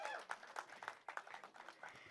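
A small audience claps as the heroine comes on stage, producing scattered, uneven claps that are fairly faint and sparse, with a voice speaking amid the clapping.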